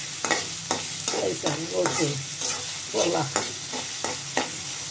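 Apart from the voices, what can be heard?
meat frying in oil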